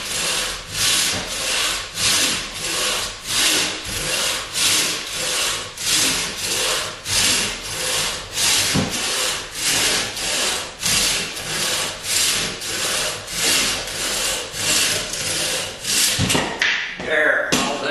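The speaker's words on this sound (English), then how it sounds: "See the way the sawdust comes flying out of there, it's doing a good job sawing." Steady back-and-forth sawing through wood, each stroke a rasping burst in a regular rhythm, close and loud for about sixteen seconds before ending with a knock and clatter.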